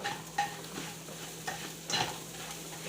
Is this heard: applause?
no